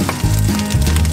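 Beef tripe for Durango-style tacos sizzles in hot oil or lard, a dense, steady crackle close up with no talk over it.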